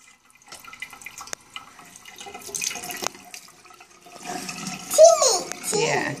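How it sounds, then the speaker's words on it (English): Tap water runs into a sink while a toothbrush is rinsed, a soft splashing wash that swells louder toward the end, with a child and an adult talking over it. "Give it a good rinse."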